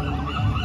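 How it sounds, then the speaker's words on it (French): Seagulls squawking nearby on a San Francisco city street, a brief, dense burst of harsh overlapping calls over constant outdoor background noise. "Gros Ben se fait attaquer par des mouettes."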